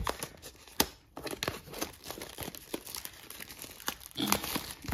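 Foil wrapper of a Pokemon Scarlet and Violet base set booster pack crinkles and crumples up close, with sharp tearing bursts scattered through a continuous rustle and no talking.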